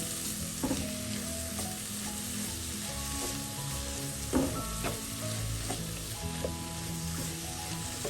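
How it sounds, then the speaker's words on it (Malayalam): Onions sautéing with spices in hot oil for a Kerala-style chicken curry produce a continuous close sizzle, with spatula scrapes and clacks against the pan repeating every second or so. "മൂത്ത ശേഷം നമുക്ക് ഉള്ളിയുടെ കൂടെ ചേർത്തൊന്ന് വഴറ്റാം."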